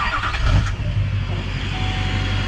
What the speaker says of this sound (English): I think I gotta start the truck for this though.